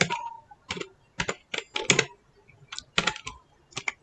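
Python code typed on a computer keyboard, close and clear: bursts of quick key clicks with short pauses between them, alone without talk.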